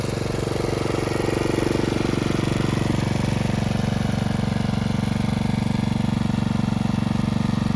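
Small petrol engine of a spray machine running in a Devgad Hapus mango orchard in Konkan, a steady loud drone with a dense pulsing rhythm throughout, alone with no talk.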